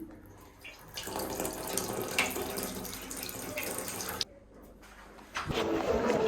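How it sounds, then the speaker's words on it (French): Water sprays steadily from a bidet in Argentina, a continuous rushing hiss that briefly cuts out and then resumes louder near the end, with no voices. "il y a des bidets avec un système qui crache par dessous"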